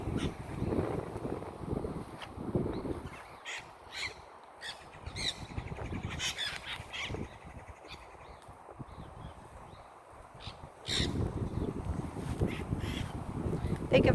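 A flock of parrots in a tree by a bay gives harsh, scattered squawking calls over gusting wind and breeze noise, the calls coming in bursts at moderate distance.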